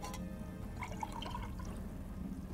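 Water scooped into a bowl in the video game Geheimbund 8, a soft liquid slosh and gurgle with faint dripping over a steady low background hum, no voices.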